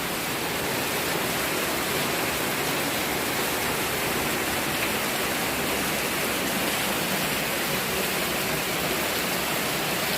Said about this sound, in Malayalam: ഈ വർഷത്തെ ആദ്യത്തെ മഴ കേട്ടാണ്